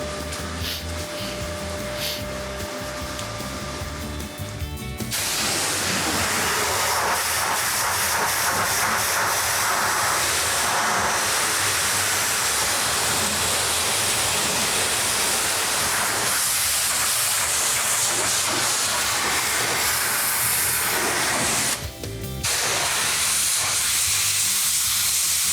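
Sprayed water rinses the body of an A-100 vehicle with a loud, continuous hiss. The hiss steadies after a rougher start, pauses briefly, then resumes without talk.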